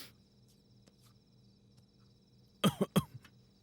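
A quiet room with faint background hiss, then a quick burst of three or four coughs close by near the end.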